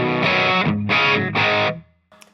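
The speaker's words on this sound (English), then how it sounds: "I think the distortions are really meant to be played louder on this amp" Three heavily distorted electric guitar chords strum through a Fender Champion II 50 amp, each ringing briefly before the last fades into silence.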